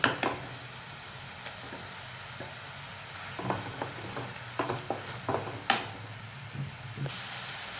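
Garlic paste and masala sautéing in a pan for an egg fry masala, a soft steady sizzle with occasional stirring scrapes and taps, fairly quiet and close.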